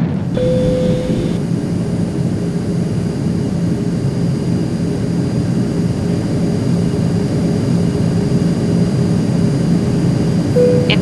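Airplane landing in the Nancy Drew game Danger by Design, a steady, loud jet-engine roar filling the cabin throughout, with brief chime tones at the start and end.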